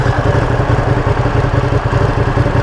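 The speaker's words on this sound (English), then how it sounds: "The idle's a little lumpy." A 2020 Ducati Panigale V2 engine idles lumpily up close, a loud, steady, throbbing mechanical rumble with an uneven pulse and no voices over it.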